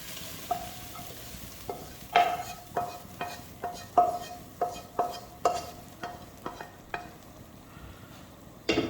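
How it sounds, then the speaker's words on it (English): A tarka tempering goes into cooked moong and masoor lentil dal, giving a low steady sizzle under a regular run of sharp metal spoon clinks against the pot, about two per second, close and without voices. "Now I'm going to add my tarka."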